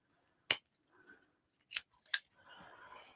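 Scissors snip off tiny bits of fabric, three sharp, distinct cuts close by with short quiet gaps, followed by faint rustling of the material.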